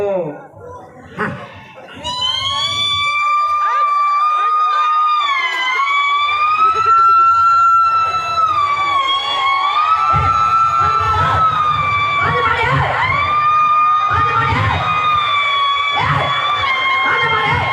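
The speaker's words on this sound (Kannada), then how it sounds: "ಸೈಡ್ ಆಂಬುಲೆನ್ಸ್ ಬರುತ್ತೆ ಸೈಡ್ ಬಂದ್ ಮಾಡು" A loud ambulance siren wails in long, rising and falling sweeps close by, with voices and crowd noise underneath.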